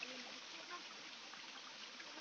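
A river stream flows steadily, a continuous broadband rush and trickle of water heard close by, with faint voices low in the background.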